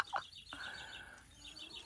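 An escaped rooster out loose in a June garden gives a few short, sharp calls close by, followed by a steadier sustained call over faint outdoor background.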